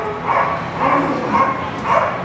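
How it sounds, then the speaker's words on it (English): A sheepdog at a winter fair sheep-herding trial barks four times in a steady rhythm, moderately close and fairly loud against background ambience. "Sheepdogs are not supposed to bark."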